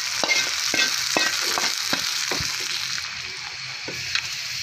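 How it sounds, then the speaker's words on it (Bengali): Boiled dal poured into a hot onion and garlic tempering, a loud sizzle at first with a run of quick clinks and scrapes that settle into a quieter bubbling hiss. "তখন আমি এইভাবে ডালটা ঢেলে দিই।"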